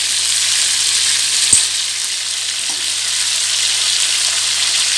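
Pieces of Shankar fish (stingray) fry in a pan of oil, giving a loud, steady, close sizzle with a brief clink or bump partway through and no talking.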